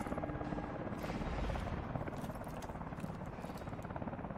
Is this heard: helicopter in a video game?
yes